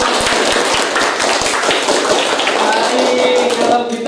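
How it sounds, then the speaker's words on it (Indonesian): A small classroom group gives a round of spirited clapping for a presenter at a teaching session, dense overlapping claps sustained for about four seconds, fairly close and loud, with some voices mixed in toward the end. "Kasih tepuk semangat lagi."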